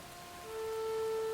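Rain falling in the video game Rain: a steady, even hiss of downpour that swells slightly midway, with faint sustained tones underneath and no voices.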